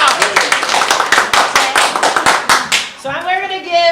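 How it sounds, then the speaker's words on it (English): A small improv-show audience gives a light golf clap: scattered, soft individual claps tapping in an uneven rhythm for a few seconds, with a voice speaking over the end. "we're going to give him a light clap, a little light golf clap"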